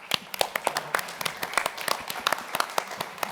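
An audience at a synthesizer trade-show panel claps in a short, fairly thin round of applause, individual claps distinct and moderately near.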